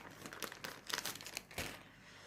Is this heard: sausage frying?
no